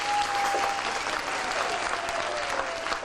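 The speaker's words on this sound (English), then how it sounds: "So, another round of applause." Audience applause after a children's bandurria performance at a Filipino school event, a steady, dense clapping that fills the whole stretch at close range, with faint crowd murmur underneath and no speech.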